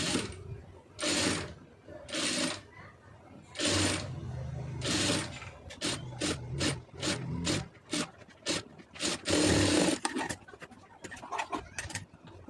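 A sewing machine stitches down a folded puff sleeve in short bursts of rapid mechanical whirring, first spaced apart and then quicker stop-start runs, close and clear.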